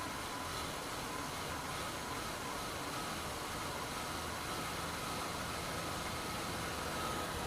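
A 1996 Ford Explorer engine idles steadily under a heavy broadband hiss, a faint, even drone that runs unbroken with no talking.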